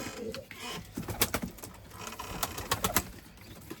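Pigeons in a breeding loft of Limoni stud birds, soft cooing and wing flutters in a cluster of short bursts, fairly close, with faint background noise and no clear speech.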